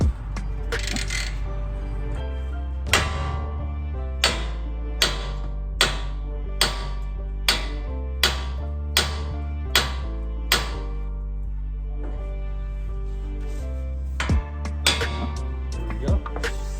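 A hammer strikes the upper ball joint of a 2003–2023 Toyota 4Runner to loosen it during control arm work. About a dozen sharp metallic whacks land in a steady rhythm over a constant low hum.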